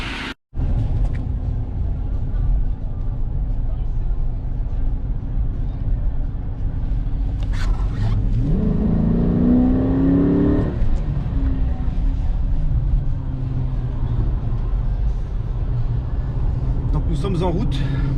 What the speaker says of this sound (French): Donc on a un moteur 5 litres 7 V8 américain